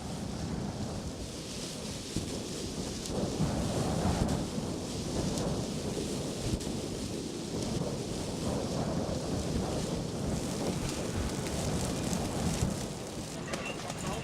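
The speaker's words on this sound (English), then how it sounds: "Even more menacing is the killer wind, which angrily pounds the shelters night and day." Heavy, steady roaring wind pounds shelters on a remote island, buffeting the microphone with a constant low rumble and hiss, loud and unbroken throughout.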